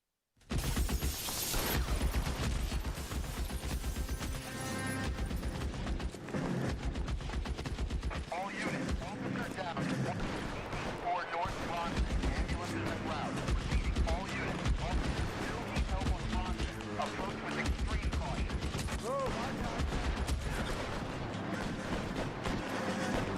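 Gunfire from the crime video game L.A. Noire, rapid shots and bursts crackling loudly and steadily throughout amid game sounds, with voices talking over it.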